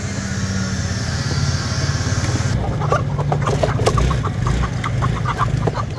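Chickens cluck and call repeatedly at the Zafaraniya market in Baghdad, close and fairly loud, over a constant low rumble of engines and market background.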